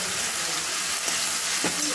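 Ground paste of spices, cashews and tomato frying in hot oil in a kadai, a continuous close sizzle with a couple of brief stirring scrapes.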